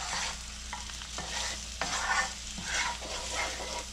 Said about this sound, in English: Give a gentle mix to it.